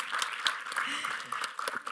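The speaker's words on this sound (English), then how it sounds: "can we have a round of applause for him?" An audience at a film trailer and music launch event claps in a brief round of applause, with scattered sharp claps under a voice talking over it.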